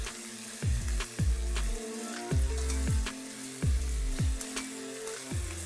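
Butter poured into a hot frying pan sizzles steadily, with a low crackle and a rhythmic clatter of repeated soft knocks over it.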